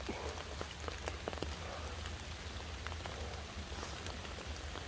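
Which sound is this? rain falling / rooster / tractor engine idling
rain falling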